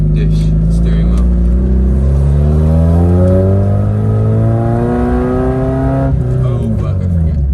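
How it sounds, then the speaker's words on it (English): A Mazda MX-5 Miata with a deep-dish steering wheel being driven around the block, its engine loud and close, revving up through rising and falling pitch sweeps, with brief voice sounds over it. "Just gonna take it on the block, show you guys how it drives."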